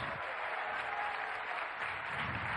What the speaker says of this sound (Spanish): Un aplauso para ellas y ellos.